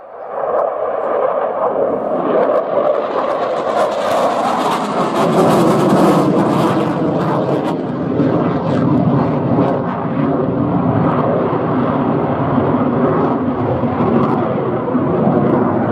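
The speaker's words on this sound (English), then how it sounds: "really making these Czech Gripens the most potent combat aircraft that Air Force has ever had" A Czech Air Force Saab Gripen jet flies a display at an international air day, a loud sustained roar that swells and stays strong for the whole stretch without speech.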